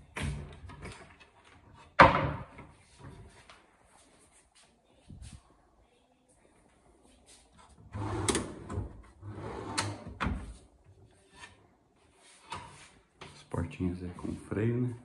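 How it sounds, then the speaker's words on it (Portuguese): Wardrobe cabinet doors with soft-close brakes open and close in a bedroom fitted with LED-lit niches, producing several soft thuds and muted knocks spread across the span while someone talks over them. "Portinhas aí com freio, né?"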